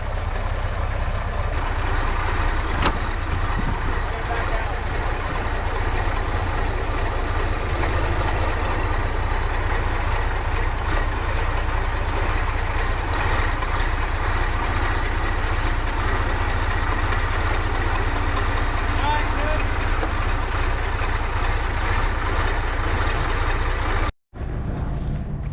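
A tractor engine runs steadily and loudly at a windy metal roof installation site, a constant rumbling drone that fills the whole stretch with no talk, briefly cutting out near the end.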